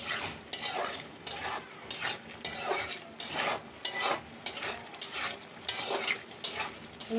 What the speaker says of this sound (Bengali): আর আমরা এখন দুপুরে মাছ রান্না করছি।